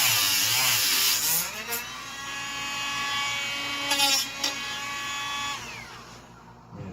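A handheld power tool shaving down an aluminum part, its high whining motor tone steady throughout and rising and falling slightly in pitch as it bites the metal, with short grinding flares before it winds down.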